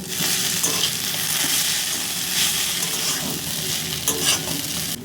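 Vegetables with Maggi noodles, egg, tomato sauce and green chilli sauce sizzle in a hot pan while a spatula stirs and scrapes them, a loud steady frying hiss with repeated close scraping strokes.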